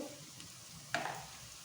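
Eggs frying in a pan, a soft steady sizzle with a brief louder burst of crackling partway through, close and without talk.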